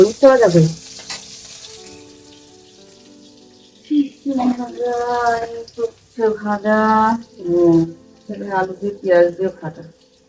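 Potatoes fry in a pan with a soft, steady sizzle in the background while people talk over it throughout.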